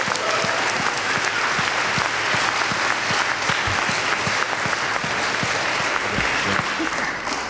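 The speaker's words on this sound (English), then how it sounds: "let's give them all a round of applause because they did a great job" Sustained applause from an audience at a panel discussion after a film screening, a dense even wash of many hands clapping throughout, fairly loud and continuous.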